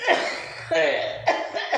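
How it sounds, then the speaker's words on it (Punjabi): An elderly woman coughs in a few harsh, breathy bursts, close and fairly loud, with short pauses between fits. "ਬੀਬੀ ਨੂੰ ਵਿਚਾਰੇ ਨੂੰ ਖਾਂਸੀ ਆਣ ਲੱਗੀ"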